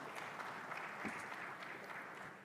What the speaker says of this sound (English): May I request that we give a bigger round of applause to Excellencies for their candid remarks